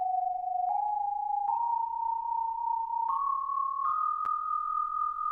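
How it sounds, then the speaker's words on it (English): Noisy synth sample plays a steady sustained tone that steps upward in pitch several times, with faint clicks at each change, moderately quiet and alone. "So it's this really like noisy synth"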